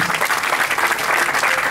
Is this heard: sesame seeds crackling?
no